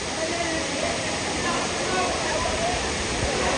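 Kalmandvi waterfall at Jawhar, Palghar, roaring as a dense, steady rush of falling water that fills the whole clip, loud and close without letup.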